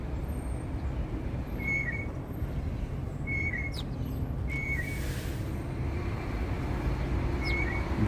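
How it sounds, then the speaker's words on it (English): Small birds chirp in short, repeated calls outdoors in New York City in 32°F cold, fairly faint over a steady wash of city traffic and street rumble. "Bird watching, even though we cannot see it, it's obstructed, it's right there"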